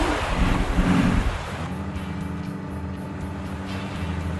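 Ocean waves wash around a ship in Arma 3, a loud broadband surf rush for the first second and a half, then settling into a steadier, lower swell with a constant engine-like hum underneath.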